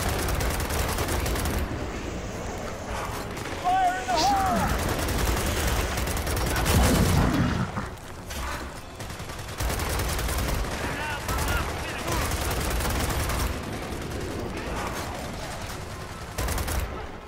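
Shotgun blasts from Gears of War 4 mix with other combat noise in repeated loud bursts, with talking layered over the dense game sounds.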